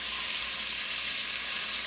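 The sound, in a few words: bacon frying in pan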